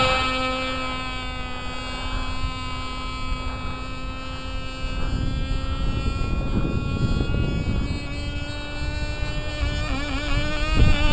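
A Cox Killer Bee model engine idling at low throttle in a flying RC model, a steady, high, buzzing whine with strong harmonic tones that holds even and drifts slightly in pitch near the end, moderately loud and continuous.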